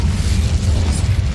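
Fire spell Incendio cast in Hogwarts Legacy, a loud, close, sustained deep rumbling burst with heavy low boom and steady hiss throughout, filling the whole moment without pause.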